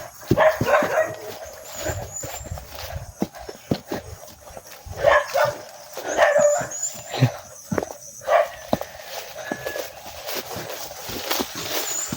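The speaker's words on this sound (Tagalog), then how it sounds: "May aso mga tol." A dog barks repeatedly at a distance, in irregular bursts with some yips, amid outdoor background noise.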